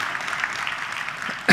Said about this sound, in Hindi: ताली बजाओ यार इनके लिए सबसे।